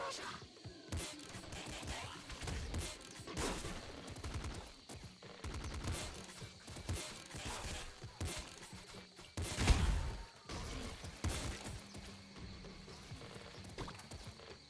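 Rapid disc gun fire in the video game Nuclear Throne, a dense string of quick clattering shots with bursts and louder peaks, set among busy game effects and heard fairly quietly.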